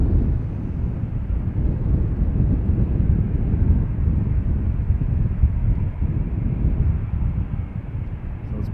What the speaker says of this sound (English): as you can probably tell, we seem to get in the worst of the wind